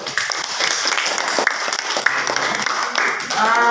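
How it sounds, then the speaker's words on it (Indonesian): A classroom of students claps for a student group after its presentation: steady, dense hand-clapping for the full few seconds, fairly close and even in level, with a few sharper individual claps standing out. "tepuk tangan untuk kelompok 1"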